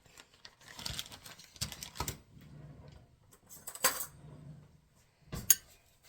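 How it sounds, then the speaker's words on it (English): A fork clinks and scrapes against a bowl while ingredients are mixed for parmesan chicken bites, in a few short bursts of sharp metallic taps separated by quieter stirring, close and faint. "I'm just going to use a fork to kind of mix it all together"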